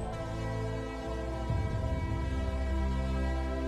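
A train rolls toward a railway bridge on the line to Viaducto La Polvorilla, high in the mountains. A steady loud rumble with sustained tonal droning carries throughout, and rougher clatter builds midway.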